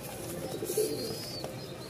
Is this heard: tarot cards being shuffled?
no